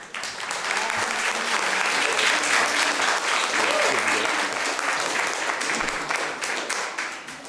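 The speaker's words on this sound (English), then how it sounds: "And I would ask that we hold all applause and all comments." An audience at a city council meeting breaks into sustained applause, a dense, steady wash of clapping that holds for several seconds and tapers slightly at the close, with faint voices mixed in.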